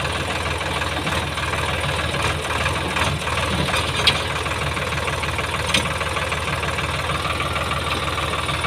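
A tractor engine runs hard with its rear tyres lifted off the ground, giving a steady, loud mechanical drone with a knocking rumble throughout and no voices.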